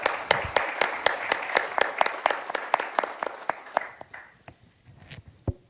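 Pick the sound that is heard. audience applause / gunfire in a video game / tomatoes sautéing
audience applause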